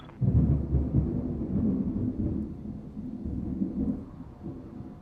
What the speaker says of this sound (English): That is some loud lightning.